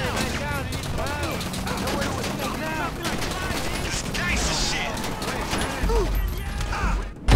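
Rapid gunfire bursts in GTA 5 Online, dense repeated shots crackling over a busy game soundscape with a heavy thump near the end and a voice calling out now and then.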